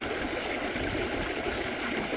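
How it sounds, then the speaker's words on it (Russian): Water from an underground spring flows out into channels in an old village park, heard as a steady, soft trickling and gurgling stream with no voices. "вода, которая, смотрите, вытекает вот там и потом выливается в каналы"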